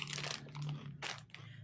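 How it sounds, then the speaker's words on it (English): Crunchy, crinkly chewing noises repeat in short bursts close up, with a broadband crunch standing out about two-thirds of the way through and a low hum running underneath. "Is somebody chewing something?"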